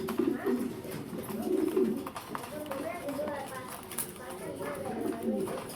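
Pigeons coo in soft, low, rolling bursts close by, a steady overlapping murmur that runs through the whole stretch with no clear pauses.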